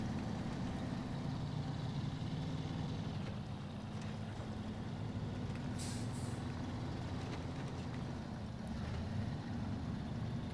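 Heavy truck engine labouring in low gear up a dirt path in SnowRunner, a steady loud low drone throughout with faint hissing bursts, no talk.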